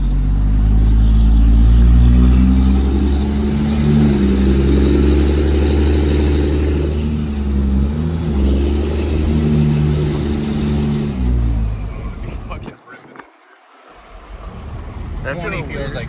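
A third-generation Cummins diesel pickup with a newly fitted engine drones loudly on the road, its pitch rising and falling through several revs before cutting off abruptly near the end, heard from inside the cab.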